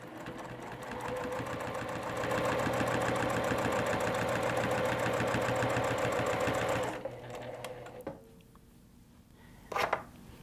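A sewing machine stitches vinyl or fabric in a fast, even mechanical chatter for several seconds, then stops, leaving quieter handling noises and a brief clunk near the end.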